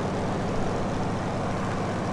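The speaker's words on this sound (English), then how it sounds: "I'm enjoying flying this A1 much more than flying the helicopter" An A1 attack aircraft in Gunship III drones with a steady, loud propeller-engine roar, unbroken and even throughout with no other sounds over it.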